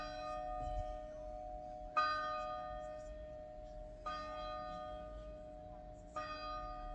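Church bells strike the hour in Fuzeta, Portugal, four clear, evenly spaced strokes about two seconds apart, each ringing out and decaying, heard from a moderate distance.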